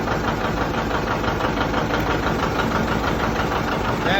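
A John Deere 70 diesel tractor engine idles with a steady, loud, knocking chug. The rhythmic diesel clatter runs close and unbroken, with no one speaking.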